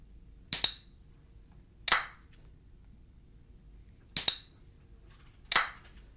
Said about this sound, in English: This is a soda can being opened.